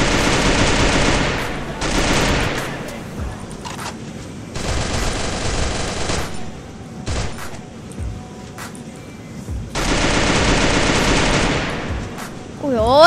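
Sustained gunfire in a shooter video game, several long automatic bursts separated by short pauses and scattered single shots, loud and close, with players occasionally talking between the volleys.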